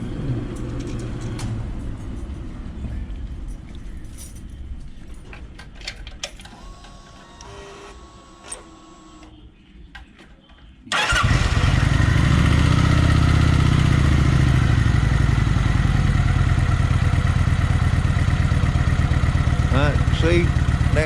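A Kawasaki Vulcan 900 motorcycle engine with restrictor plates removed is cranked and fires, jumping from quiet background clatter to a loud, steady running rumble that holds to the end.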